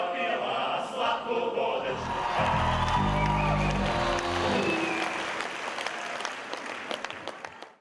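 A concert hall audience in Shymkent gives a roaring ovation to a choir after an a cappella Russian folk song. Loud, sustained clapping mixes with cheers and whoops, and a brief low sung or spoken tone rises partway through before the applause thins into scattered claps.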